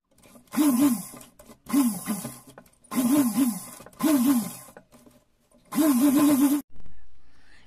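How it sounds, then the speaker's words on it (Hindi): A sewing machine stitches a small dress in five short bursts of rhythmic, buzzing motor drone, each about a second long with pauses between, close up. "ये यहाँ से यहाँ तक सिलाई लगा देंगे"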